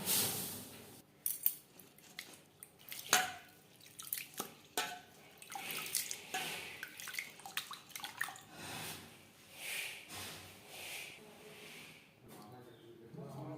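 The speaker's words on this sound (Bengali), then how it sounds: "এবার আমি জল পাল্টে পাল্টে পরিষ্কার করে ধুয়ে নেব" Moong dal is rinsed in a bowl of water in a home kitchen, with repeated splashes, drips and sloshing at close range, bursts of swirling and pouring spaced irregularly between quieter pauses.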